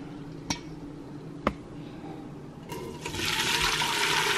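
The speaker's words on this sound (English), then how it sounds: "add the broth back to the pan" Strained chicken soup broth pours from a bowl into a pan, a couple of light clinks followed by a steady, rising rush of liquid that gets louder toward the end, close and with no talking.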